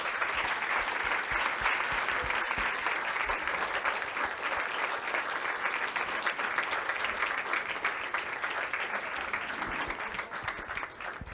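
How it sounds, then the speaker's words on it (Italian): Loud, sustained audience applause fills a theatre as a comedian, Michela Giraud, is introduced, dense steady clapping continuing throughout without a break. "signore e signori vi chiedo per favore un grande applauso"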